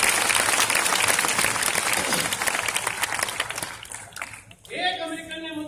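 Audience at a Hindi poetry recital (kavi sammelan) during IIT Kanpur's Antaragni 2014 festival claps loudly and steadily for about four seconds; the applause then fades as a voice starts speaking.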